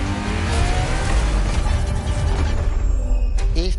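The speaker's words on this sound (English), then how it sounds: "Ferrari is the first Ferrari we have with an hybrid engine." Hybrid-engine Ferrari revving in The Crew Motorfest, a loud continuous engine roar that holds steady and then tails off with a brief higher whine at the end.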